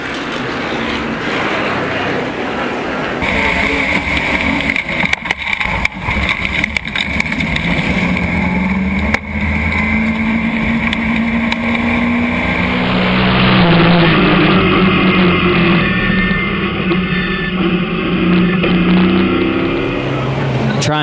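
Stock cars in the CRA Super Series Winchester 400 race roar past with loud, sustained engine drone and shifting pitch, joined by a high whine partway through, under continuous race commentary.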